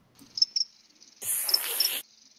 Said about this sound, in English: That's gotta be a soundboard. That's crickets.